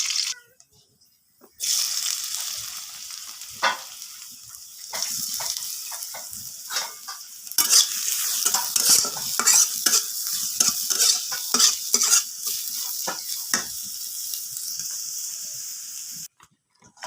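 Chillies sizzle in hot oil in a home kitchen pan while a spatula stirs and scrapes in repeated strokes, with a loud, steady frying hiss and a brief quiet gap near the end.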